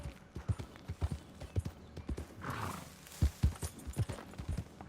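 A horse's hooves clop in a steady gallop rhythm in Red Dead Redemption 2, heavy low thuds repeating close by with a brief rushing, snorting burst in the middle.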